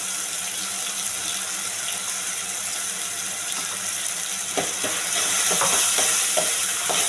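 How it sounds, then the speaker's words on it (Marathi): Ground masala paste goes into a simmering pomfret fish curry in a pan, giving a steady bubbling sizzle with a few sharp scraping and stirring knocks toward the end. "आता आपण त्यामध्ये हे वाटण ऍड करूया"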